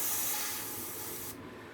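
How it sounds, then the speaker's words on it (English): Airbrush spraying out leftover gold candy paint, a steady broadband hiss that runs continuously and then cuts off sharply near the end, close and fairly loud with no talking. "get that sprayed out, what's left"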